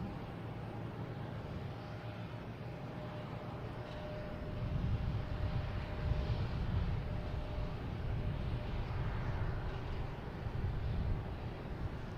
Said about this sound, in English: Next arrivals on American Airlines coming in from Indianapolis in E175